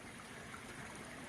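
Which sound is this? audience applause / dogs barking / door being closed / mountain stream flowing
mountain stream flowing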